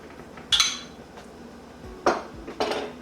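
Utensil scraping and clinking against a bowl while coleslaw and mayonnaise are stirred together, three short bursts of clatter spaced out over quiet background, fairly close and moderate in loudness.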